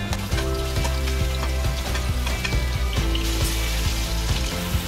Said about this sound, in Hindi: अभी प्रॉन्स को थोड़ा सा हल्दी और नमक के साथ मिक्स करेंगे और फिर इसको फ्राई कर लेंगे